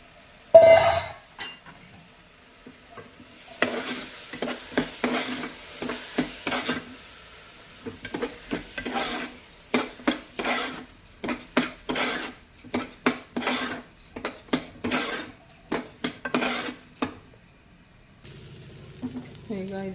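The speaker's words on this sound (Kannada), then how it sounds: "ಒಂದು 2 ಮಿನಿಟ್ಸ್ ಫ್ರೈ ಮಾಡಿ." Stirring and frying in a pan for temple-style pongal, with a spoon scraping and clinking against the pan in bursts over a soft sizzle and short quiet pauses in between.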